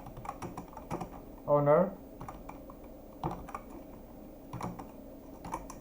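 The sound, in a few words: typing code on a computer keyboard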